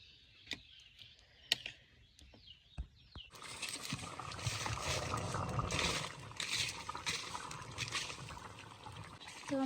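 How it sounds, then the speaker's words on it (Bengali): Water is poured into a pan of browned meat curry, turning a few scattered clicks and knocks into a loud, continuous rushing, bubbling splash close by that lasts several seconds. "এখন এর মধ্যে পরিমাণ মতো একটা জল দিয়ে দিই।"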